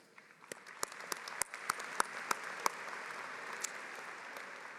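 A commencement ceremony audience breaks into a round of applause, distant and fairly soft, with individual claps standing out as scattered sharp cracks over the steady patter.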